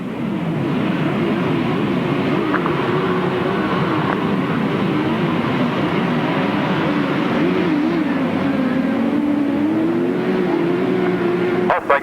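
Grasstrack racing sidecar outfits starting a race at Steyning in 1993, a steady loud engine roar from several machines that rises and shifts in pitch as they pull away, with commentary talk over it.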